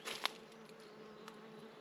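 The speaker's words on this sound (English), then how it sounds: "That sounds like a big bee." A large bee buzzes in an outdoor woodland at Mametz Wood, a steady faint drone that lasts throughout, with a brief tap near the start.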